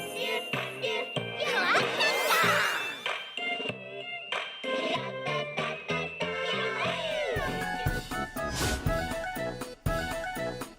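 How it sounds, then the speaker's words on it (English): A cat meows repeatedly in a trailer for an indie game, with tinkling chimes and music around it. The sound is loud and continuous over about ten seconds. "I think it's a cat."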